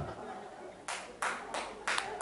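A church congregation breaks into several short bursts of clapping in quick succession, moderately loud and close, with a voice talking underneath.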